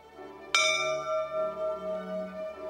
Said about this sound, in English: the ship's bell, which is used on board to mark time